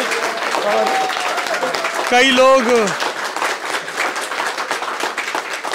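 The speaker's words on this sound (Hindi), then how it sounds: "बस पीछे से एक ताली बजनी थी।" Scattered clapping comes from people standing behind the camera on an interview set. It rises and falls beneath a voice that talks over most of it, and a few other voices join in.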